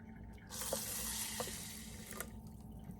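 Water from a tap pours steadily into a mini rice cooker holding half a cup of steel-cut oats, a continuous close splashing fill lasting a couple of seconds with no talk.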